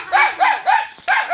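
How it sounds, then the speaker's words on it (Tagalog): Several large dogs bark close by in short repeated bursts of about four quick barks in a row, loud and clear, with no talk over them. "Yan, malalaking aso."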